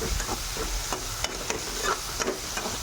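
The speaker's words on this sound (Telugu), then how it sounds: "టమాటా ముక్కలు కట్ చేసి పెట్టుకున్నాం కదా అవి ఇందులో వేసుకోవాలి. వేసి నీట్గా వేయించుకోవాలి." Tomato pieces frying in a pan for eggplant tomato curry, a continuous close sizzle broken by the scrape and clink of a spoon stirring every half second or so.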